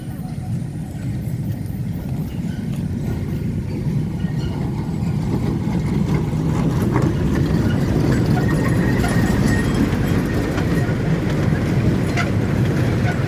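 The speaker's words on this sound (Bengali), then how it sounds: "ট্রেনটা ফাঁকা যাচ্ছে।" A small park train at Kaldighi park passes nearby at dusk, making a steady low rumble with a rhythmic clattering of its wheels that continues throughout. Voices talk over it.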